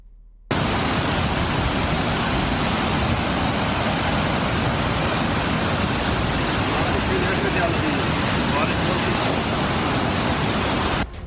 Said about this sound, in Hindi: भद्रवाह में बरसात का पानी अपना रौद्र रूप अब दिखा रहा है।